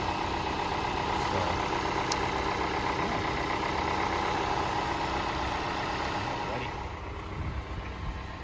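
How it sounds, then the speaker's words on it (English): A 2010 Ford Fusion Hybrid with a 2.5 liter four-cylinder engine idles with a steady, smooth, low hum and no odd knocks, heard from close by as a continuous drone. "engine runs nice and smooth. There's no odd noises or vibrations."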